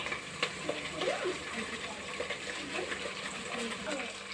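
Fish curry bubbling and sizzling in a pot right after broth is poured in, a steady close wet simmer with faint stirring noises throughout.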